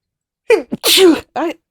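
A single sharp sneeze with a quick intake of breath before it, close and clear, followed by a short vocal exhale.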